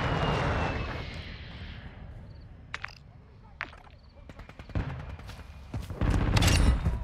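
AC-130 gunship firing in Modern Warfare 2, distant booming bursts and scattered sharp impacts over a low rumble, building to a heavier roar near the end, with voices talking over it.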